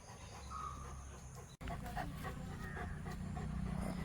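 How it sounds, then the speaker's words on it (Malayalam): A large, heavy dog, loose and wandering near Anchangadi in Muttichur, pants steadily and close by, its breathing continuous against a busy outdoor background with faint birds. "ആരുടെ ഒരു ഡോഗ്, നല്ല ഹെവി സാധനം"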